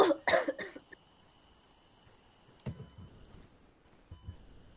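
A person coughing, with a quick burst of loud, harsh coughs at the start, then quieter, isolated coughs spaced out after a pause.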